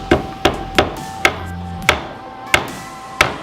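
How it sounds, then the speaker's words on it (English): Seven sharp hammer blows drive a homemade staple into a wooden bat at an uneven pace, each a crisp wooden thwack with a quick decay, close by and with no talking. "And I put one of my homemade staples here, hammer it in."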